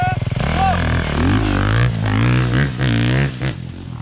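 A motorcycle starts a timed lap with a rising engine note that climbs through gears, loud and close, with a voice talking over it.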